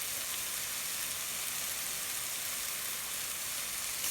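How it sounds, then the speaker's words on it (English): Vegetables for a white bean and collard green soup sauté in a Le Creuset pot, giving off a soft, continuous, even sizzle at low volume with no break. "I'm just going to saute this for like 2 minutes."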